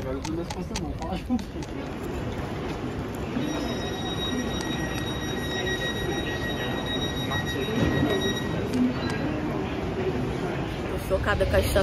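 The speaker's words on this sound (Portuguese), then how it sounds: "Chocada com a estação de London." A busy London train station: a train rumbles and rolls steadily close by, with a sustained high metallic wheel squeal in the middle and people talking over the noise.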